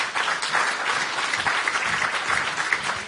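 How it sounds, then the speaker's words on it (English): Sustained, dense clapping from a live audience thanking a journalist and panel at a talk on masculinity, media and power, close and loud without a break for three seconds. "And please give a huge round of applause for Paraic O'Brien and the entire panel."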